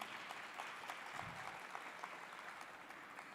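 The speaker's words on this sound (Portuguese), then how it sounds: "Vamos aplaudir, senhoras e senhores." Audience applause at a tax law panel in Brazil, a steady wash of clapping from a seated crowd that holds evenly for the whole stretch at moderate distance.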